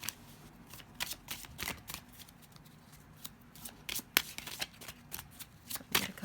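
Deviant Moon tarot cards riffled and shuffled by hand, giving repeated crisp papery bursts and flutters at close range with no talk.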